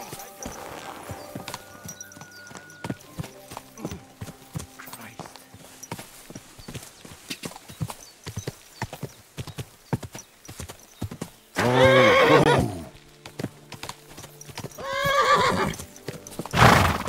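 Horse hooves clip-clop steadily in the game Kingdom Come Deliverance 2, and two loud whinnies break out partway through, while in-game voices talk over the scene.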